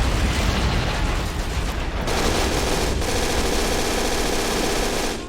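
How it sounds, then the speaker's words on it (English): Continuous, loud MG-42 machine gun fire in the WWII strategy game Men of War: Assault Squad, set in a German last-stand defense during the 1943 retreat from Stalingrad, a dense unbroken burst with brief dips in intensity. "I think we have our MG-42."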